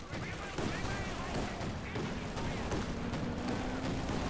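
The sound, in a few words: gunfire in the video game Company of Heroes 2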